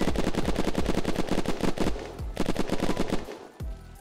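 Rapid automatic gunfire in Unturned, a vanilla PvP base raid, aimed straight down through a roof: loud, close bursts of evenly spaced shots, a short pause, then another burst that trails off near the end.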